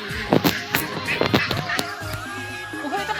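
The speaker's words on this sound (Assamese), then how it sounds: "আহক আমি এতিয়া হাঁহ চাওঁ। হাঁহ চৰি আছে।" A flock of about a thousand ducks grazing beside a pond at a wetland, with a run of loud, close quacks and honks over a busy outdoor background.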